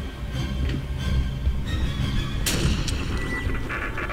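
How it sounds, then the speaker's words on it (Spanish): Explosive booms and rumbling gunfire in Alien vs Predator fill the clip, with a sharp, bright blast standing out midway through the dense low roar. "La explosión debería matar al otro también"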